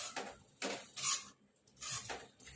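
Pav bhaji being stirred in a pan with lemon and coriander: several irregular bursts of spoon scraping and clattering against metal, with short pauses between them, fairly close and soft.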